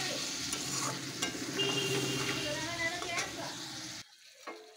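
Potatoes being stir-fried in a pan give a steady sizzle with scraping stirs for about four seconds, then the sound cuts off abruptly to near silence.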